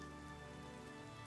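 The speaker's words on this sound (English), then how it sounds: "Nige just running out in the rain." Steady rain falls across a cobbled video game town, a dense, even hiss of drops on the surface that holds constant throughout without pause.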